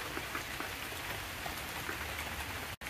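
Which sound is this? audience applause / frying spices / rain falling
rain falling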